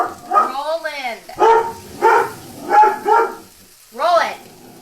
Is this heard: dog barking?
yes